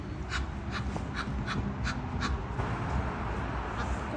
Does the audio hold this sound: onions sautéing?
no